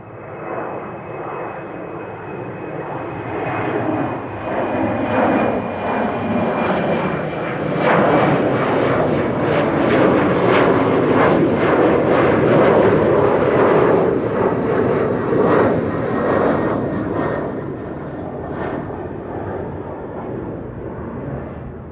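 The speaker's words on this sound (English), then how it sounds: "Iberia is now rolling. A319." An Iberia Airbus A319 jet takes off at Amsterdam Schiphol Airport, its engine roar swelling from a distant whine to a broad, loud rumble that peaks midway and slowly fades as it climbs away.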